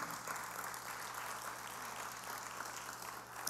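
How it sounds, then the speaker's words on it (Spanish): A church congregation applauding during a sermon, a dense, even patter of many hands heard at a moderate distance, sustained without pause and slightly muffled under a low steady hum. "le damos un fuerte aplauso al Señor"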